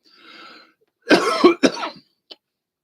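A faint breathy sound, then two rough, close coughs in quick succession, followed by a tiny click.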